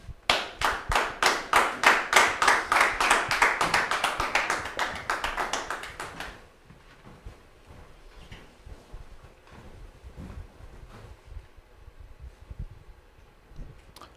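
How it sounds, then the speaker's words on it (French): A studio audience at a French-language television programme claps in unison, a steady rhythmic beat that builds, then stops after about six seconds, leaving quiet room noise. "recevons ici maintenant Maï et notre très cher Junior sous vos applaudissements"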